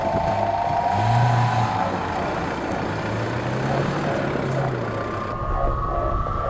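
A Nissan Stagea revs at the start line of an outdoor drag race, on the far lane, alongside other cars. A steady, loud engine roar fills the whole stretch without a break, with no talking.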